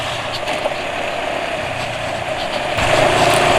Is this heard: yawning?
no